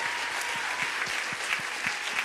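A church congregation claps together in praise to Jesus during a sermon, a brief dense wash of applause with a few louder individual claps standing out near the front.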